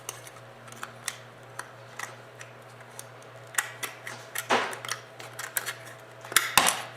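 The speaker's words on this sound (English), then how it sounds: "Go ahead and take your shears and cut that off." Metal shears snip around the lip of a metal coffee can in a series of sharp, irregular clicks and crunches, growing louder and denser toward the end over a low steady hum.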